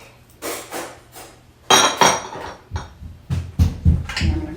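Chopped carrots and celery tipped into a soup pan half full of broth, a run of clattering knocks and scraping bumps against the pan, close and fairly loud, with no talk.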